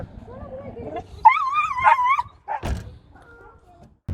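An injured dog whimpers in a rising, wavering whine for about a second, followed by a thump and faint soft whines, with a person speaking briefly beforehand.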